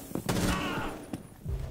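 Gunfire in the tactical shooter Rainbow Six Siege, a few sharp shots and a short burst with brief gaps between them, moderately loud.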